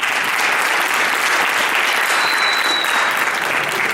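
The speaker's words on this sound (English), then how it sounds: "Let's have another round of applause for him." Dense, steady audience applause, many hands clapping at once without a break, loud and sustained throughout.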